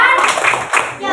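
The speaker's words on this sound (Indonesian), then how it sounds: "Silakan kasih tepuk salut kepada kelompok Merkurius." A school class claps in unison for a student group in a classroom, a quick, loud burst of rhythmic hand claps with children's voices mixed in.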